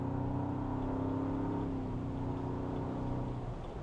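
A Ford Bronco engine pulls steadily under acceleration while driving, its drone holding loud and even with a brief dip as it shifts gears partway through, then carrying on.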